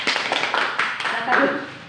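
Children in a classroom clap together in a brief, uneven burst of hand claps mixed with their voices, close by and fairly loud.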